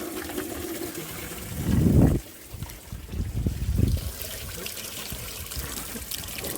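Coolant drains out of the thermostat housing on a 2002-2004 Jeep Grand Cherokee WJ, two short bursts of trickling, splashing liquid with a quiet pause between them, close by and fairly soft.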